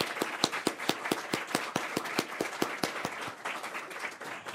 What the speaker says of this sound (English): Let's have a big round of applause for all of our award winners.